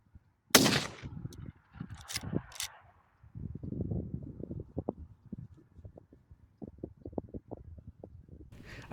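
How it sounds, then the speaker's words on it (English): A single sharp, loud rifle shot from a Henry 5.56 Long Ranger lever-action at a 500-yard range, followed by a metallic clack of the lever being worked and quieter shuffling and handling noises. "After finding my natural point of aim, one shift for elevation and one for windage, I started my 10-round string of fire."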